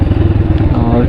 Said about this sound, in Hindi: तो यहाँ करते हैं मोटरसाइकिल पार्क